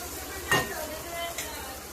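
Onion being stirred in a pan for Konkani sukat chutney, a soft continuous sizzle with a couple of brief spoon scrapes against the pan.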